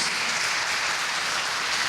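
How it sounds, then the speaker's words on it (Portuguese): A church congregation applauding in a steady, dense wash of claps with no voices, sustained and fairly loud through the whole moment. "você pode dar um aplauso ao nome do Senhor Jesus"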